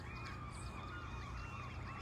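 Geese with goslings honk amid nesting seagulls, a steady dense chorus of calls under a constant noisy outdoor background, moderately loud throughout.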